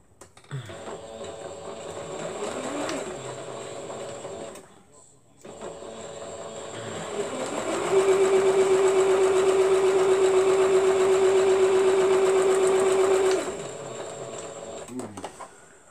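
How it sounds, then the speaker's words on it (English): Sewing machine stitching a fabric strip for a dress, a steady whirring mechanical hum in two runs with a short pause between, rising to a faster, louder drone in the second run. "Now I'm gonna go ahead and sew the other strip down"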